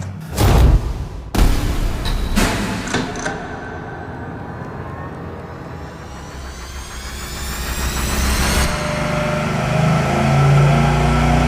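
A V8 engine on a dyno idles through straight exhaust, H-pipe or X-pipe headers, making a loud, steady exhaust rumble. A couple of sharp knocks come early, and the drone swells slightly toward the end.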